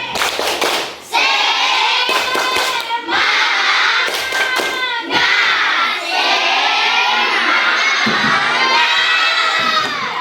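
A classroom of children shouts and cheers loudly with bursts of rhythmic spirit clapping, energetic and close, continuing throughout.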